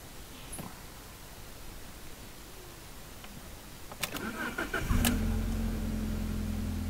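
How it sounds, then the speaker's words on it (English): A quiet hiss, a few clicks, then an Alfa Romeo car engine cranks and catches, settling into a steady idle that runs to the end. "so I'm gonna start the car."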